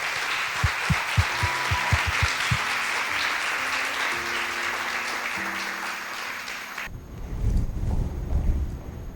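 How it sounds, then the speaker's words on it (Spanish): A church congregation applauds during a Sunday Christian service, steady crowd clapping with low rhythmic bass notes or music underneath, cutting off abruptly near the end and giving way to low rumbling room noise. "dale un aplauso al Señor"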